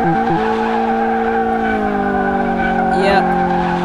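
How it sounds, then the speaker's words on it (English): In Car Mechanic Simulator 2018, a front-wheel-drive car with 500 horsepower spins its front wheels and understeers, giving a loud, sustained engine drone with tire squeal, no talking over it. "the only thing that's going to happen here is this front wheel spinning and a lot of understeer"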